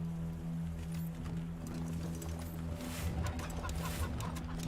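A chicken in a video game clucks repeatedly in a steady, low, mid-level stream alongside a constant electronic hum, with no talking.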